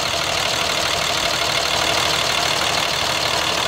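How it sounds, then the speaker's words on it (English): A 5.9 liter Cummins diesel in a 2005 Dodge Ram 3500 dually 4x4 idles steadily, a continuous broadband rumble with no talk over it. "The engine runs perfect."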